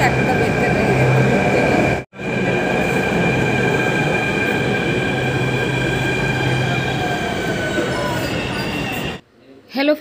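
A departing metro train in India rumbles loudly and steadily nearby with a whining tone, drowning out the surroundings before a brief drop and fade near the end.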